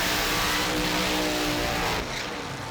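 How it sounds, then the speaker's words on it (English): An alcohol dragster doing a burnout at a drag race roars loudly and steadily, the engine holding a high rev before easing off near the end. "Mick Snyder, the driver on the inside, set for his burnout."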